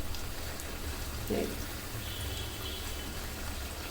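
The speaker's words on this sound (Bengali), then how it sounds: "এভাবে করে এই আস্তে আস্তে করে ভেজে নিতে হবে" Homemade lachha semai vermicelli fries slowly in oil over medium heat, a soft, even bubbling crackle heard close and steady throughout.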